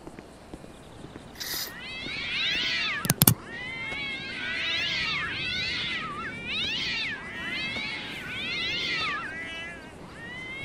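Several cats meow and caterwaul in Grand Theft Auto V, a string of drawn-out rising and falling cries in steady succession, with a couple of sharp clattering knocks near the start.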